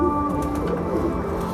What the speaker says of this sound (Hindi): ग्रीन आइज़ के जो कबूतर हैं अपने, ये वो हैं।